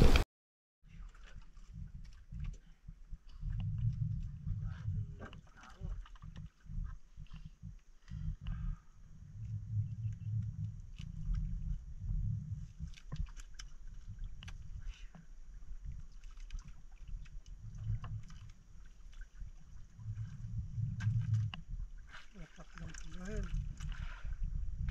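A small boat at sea during a night spearfishing trip as divers climb aboard, with water sloshing, hull knocks and low rumbling thuds, and a voice talking over it for much of the time.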